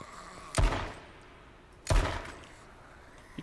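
Two sharp, loud gunshots ring out about a second and a half apart in the zombie battle royale game H1Z1, each with a short booming tail, with quiet game ambience between.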